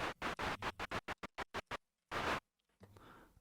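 A psytrance snare's synthesized noise layer, made in Sytrus, plays as a rapid train of short, sharp hissing bursts that grow quicker and thinner. One longer, fuller burst follows, then a softer tail.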